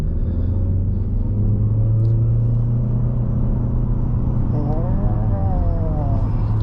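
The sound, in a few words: 2022 Haval H6 1.5L hybrid pulling away under throttle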